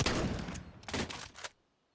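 Rapid gunfire on the Inferno map of competitive Counter-Strike, a dense burst of shots followed by a few quick follow-up rounds, then an abrupt cut to near silence.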